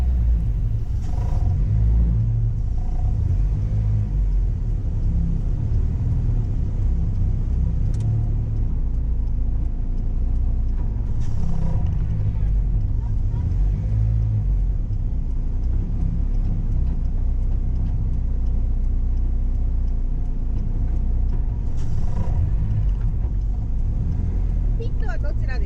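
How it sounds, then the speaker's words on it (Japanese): A fully tuned Honda K24R VTEC engine in a Toyota MR-S idles roughly at a circuit, its rumble sagging as if about to stall after a transmission failure, steady and close with people talking over it. "ニュートラルなのにクラッチを離すとエンジンが止まりそうになります。"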